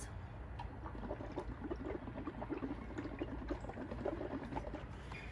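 Bubbles blown through a straw into a paint mixture for bubble prints, a steady low bubbling and gurgling that runs continuously and softly throughout, close by with no voices.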